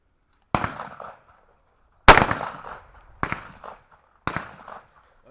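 Four sharp shotgun blasts at clay pigeons on a club practice range, each loud and close with a short ringing decay, spaced roughly one to two seconds apart with silence between.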